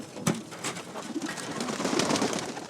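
Domestic pigeons bred for food cooing close by in a soft, continuous, low burbling murmur, alone with no talk.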